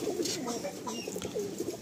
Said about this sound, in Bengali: আসুন আমরা ছেড়ে দেখি পায়রাগুলো